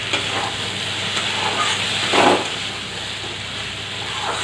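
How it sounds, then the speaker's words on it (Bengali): Spice paste fries in oil in a pan with a dense, even sizzle throughout, one brief swell of stirring near the middle, close and steady with no voices. "মশলাটা ভালোভাবে কষানো হয়ে গেল, তেল ছেড়ে দিয়েছে।"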